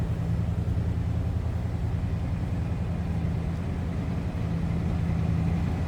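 A 1973 Dodge Charger hardtop idles steadily after a cold start, its engine rumbling low and even at close range, heard from behind the car with no voices.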